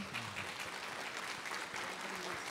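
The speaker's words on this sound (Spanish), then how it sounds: "And as they come, let's welcome them. Y mientras, mientras vienen acá, damos un aplauso." Congregation at a bilingual church service applauds as people come forward, a soft, continuous wash of clapping heard somewhat distant, with faint voices mixed underneath.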